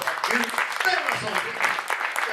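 Church congregation applause during a Spanish-language sermon, clapping mixed with voices and shouts of praise, fairly close and lively.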